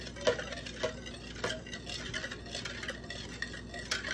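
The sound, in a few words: stirring cake batter in a bowl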